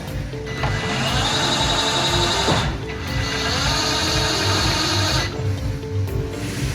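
Smartlift glass lifter driven up and down by remote control, a loud continuous mechanical whirring with gear and ratchet chatter, briefly pausing and then running again, close by.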